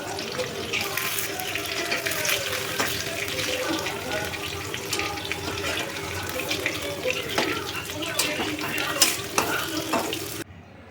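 Red lentil patties sizzling and crackling in a pan over medium heat, a steady close frying hiss with intermittent clicks and scrapes throughout.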